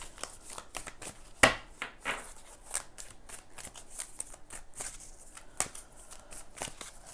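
A deck of tarot cards is shuffled by hand, producing close, crisp riffling and snapping bursts in an irregular rhythm, with one sharper slap early on and quiet stretches in between.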